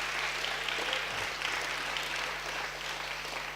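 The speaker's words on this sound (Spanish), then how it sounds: "Eso merece un aplauso." A church congregation applauds during a sermon, a dense, even wash of clapping from many hands that holds steady throughout.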